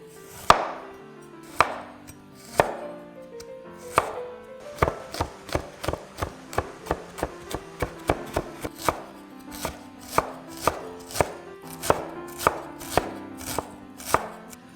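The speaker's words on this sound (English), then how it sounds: "Finally chop up the garlic and the ginger." Garlic and ginger being chopped with a knife on a cutting board: a sharp, close series of knife strikes, starting sparse and then settling into a quick, steady rhythm of crisp taps.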